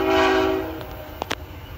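A Tier 4 EMD ST70AH locomotive hauling mixed freight sounds its horn in one loud, sustained chord that fades after about half a second, followed by a couple of brief sharp clanks.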